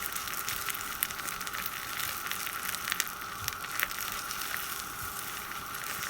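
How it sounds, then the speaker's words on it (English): UTEE embossing powder melts in a Ranger melting pot, giving a soft continuous sizzle with faint scattered pops, low and steady with no talking. "So don't worry about all the popping and the sizzling."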